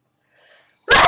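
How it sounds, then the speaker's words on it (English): A single sharp human sneeze, loud and close, preceded by a faint breathy intake. "I'm gonna sneeze all over you too."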